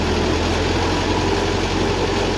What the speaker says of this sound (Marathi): मशीन चालतं ट्रॅक्टरवरती आणि ह्या शाफ्टवरती चालतं पूर्ण पूर्ण मशीन